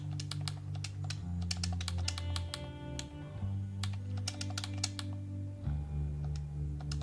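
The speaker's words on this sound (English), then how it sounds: "I wish they would sell a controller that isn't so freaking loud" Clicky video game controller buttons pressed in rapid irregular bursts while playing Snowrunner, loud sharp taps over a steady low engine hum from the game.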